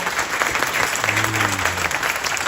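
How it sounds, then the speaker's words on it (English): Applause from a live audience at a San Diego data meetup, honoring a newly introduced Chief Administrative Officer; dense, steady clapping fills the whole stretch with a faint voice underneath. "give her a big round of applause"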